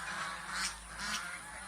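A goose gosling gives two short, faint honking calls about half a second apart over a soft, steady background hum.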